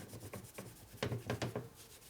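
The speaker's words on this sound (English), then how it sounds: "Keep rubbing on it till you don't see it no more." Rag rubbed by hand over a Harley-Davidson S&S 113ci Evolution engine part during a cylinder stud repair, a soft scrubbing swish repeated in quick strokes, close and fairly quiet with no talk.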